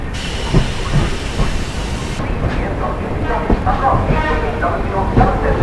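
Two trains pass one after another on the through line at Bagnan station while a stopped train waits, a steady loud rumble with hiss and faint clickety-clack over the whole stretch.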